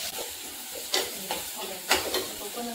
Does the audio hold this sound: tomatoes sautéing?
yes